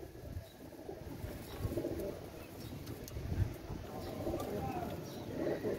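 Pakistani Teddy pigeons, an imported-bloodline pair, coo softly: low, rolling murmurs repeat close by over a faint background of other birds and ambient noise.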